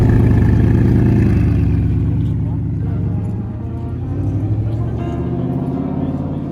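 Audi R8 sports car at a Cars and Coffee supercar meet, its engine rumbling and revving with a deep, throaty growl that rises and eases, loud and close over outdoor crowd noise.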